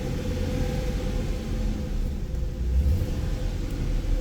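A Chevy Express van engine runs steadily after a hard start, a low continuous rumble that holds at an even level throughout, close by with no talking.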